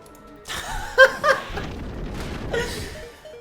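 A Hurricane move effect from a Pokémon Moon romhack, Meissa Moon: a burst of gusting wind with two sharp booming hits near the start, followed by a sustained rushing whoosh that swells again toward the end.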